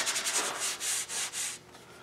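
Electric sander working a copper beech wood tray, a close, loud rasping hiss that swells and fades in quick strokes before stopping short, no voices.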